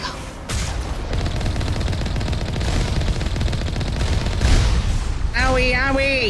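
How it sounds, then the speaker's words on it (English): Gunfire in the game Mass Effect Legendary Edition, a loud, sustained burst of rapid automatic shots and booming impacts running almost without pause, with a voice briefly heard near the end. "Who's shooting at me?"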